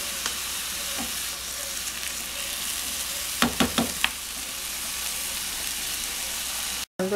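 An onion and tomato sofrito fries in a pan for lentil soup, producing a constant loud sizzle with a quick cluster of utensil clicks near the middle and a brief dropout at the end.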